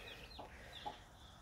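Frizzle chickens cluck softly in a couple of short, faint calls over quiet background noise.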